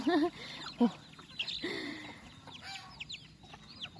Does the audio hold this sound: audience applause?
no